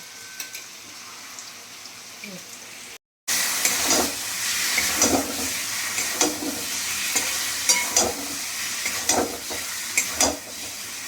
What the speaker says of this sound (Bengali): মশলাটা কষা হয়ে গেছে, এবার মাংসগুলো দিয়ে দিলাম।